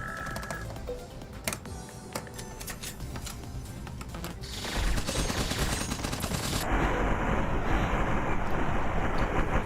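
A Super Minigun heavy machine gun firing in a video game, rapid continuous bursts of fire that build into a louder, denser roar of overlapping shots and noise in the latter half.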